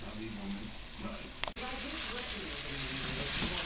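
Chicken thighs brown skin side down in a hot pan, giving a dense, steady sizzle close up, with a brief clack partway through and a voice speaking over the frying.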